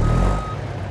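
A basic truck in the BeamNG driving simulator sounds its reversing beeper, one steady tonal beep held over a low engine rumble in a brief, close burst.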